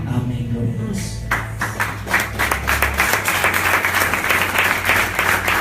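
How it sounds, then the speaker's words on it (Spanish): A congregation claps during a Sunday church service, steady dense applause building from the start and continuing loudly throughout, with low organ-like tones sustained underneath for the first few seconds. "Si ese aplauso es para mí,"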